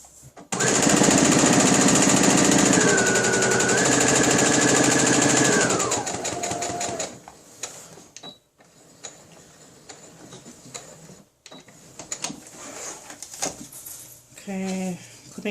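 Sewing machine running a back stitch on a fabric wet bag pouch, a loud fast mechanical whir for about six seconds that slows and stops, followed by quieter handling clicks and rustles.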